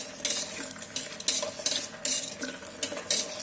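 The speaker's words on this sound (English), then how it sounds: "mix it well." A spoon scrapes and stirs soyabean chilli with dark soya sauce in an electric kettle, giving repeated close metallic scraping strokes at an irregular rhythm over a faint sizzle.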